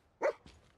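A single short bark from Dogmeat, the dog companion in Fallout 4, sounding close and fairly loud with a faint trailing yelp after it.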